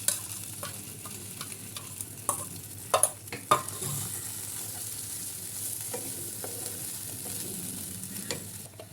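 A paste of ground pointed gourd seeds, coconut, poppy seeds and cashew is stirred in a pan, with a soft continuous sizzle and several clear scraping and knocking strokes of the spatula, busiest in the first few seconds.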